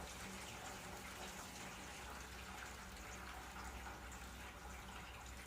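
Water pouring steadily over hands to rinse them, a faint, continuous gushing stream that holds unbroken with no other sounds.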